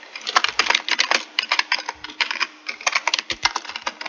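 Rapid, uneven clacking of a computer keyboard during a competitive online game, dense bursts of keystrokes with brief pauses, close and clear with no talking.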